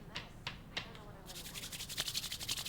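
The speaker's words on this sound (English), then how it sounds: "But like this you can even hear me tapping or anything." Light tapping and rubbing on or near a microphone, a few soft separate taps at first, then a quick scratchy rhythmic rubbing, faint and very close.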